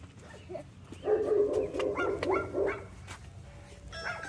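A dog barks close by in a short run of several sharp yips and barks, with whimpery tones between them, loud against a quiet indoor background with no talking.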